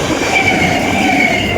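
A passenger train bound for Katwa rolls past close by, a loud steady rumble of wheels on rails with a high metallic ring running through it.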